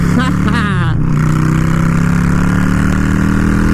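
A Yamaha V-Star XVS 650 cruiser motorcycle engine revs up under acceleration, a loud close throaty drone with rising tone at first and then steady, with wind rush and a voice talking over it.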